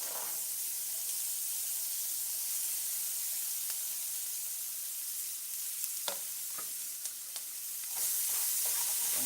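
Onions, red and green peppers, parsley and garlic powder sizzle steadily in a pan, a continuous close frying hiss with occasional louder pops and crackles, rising slightly near the end, with no talking.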